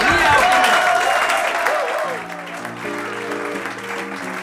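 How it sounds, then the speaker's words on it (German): Audience applause welcoming a singer onto a concert stage, a loud dense burst of clapping and crowd noise at the start that eases down as band music begins underneath. "Und deswegen bitte mit einem frenetischen Applaus"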